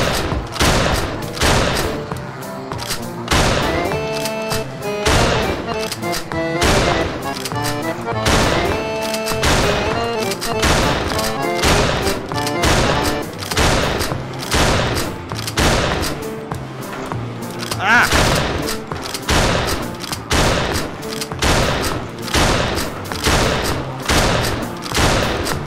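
Rapid, continuous gunfire from a shooting game in Pierhead Arcade VR, dense repeated shots with metallic target hits and arcade jingles underneath, loud and close throughout with no pause.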